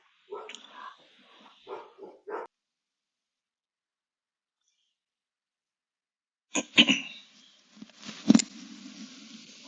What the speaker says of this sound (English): dogs in the studio today.